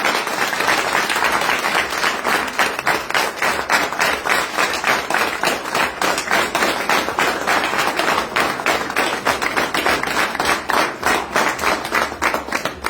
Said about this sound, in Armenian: նախ առաջարկում եմ գյումրեցիներին ծափարել, բոլորս միասին ծափարել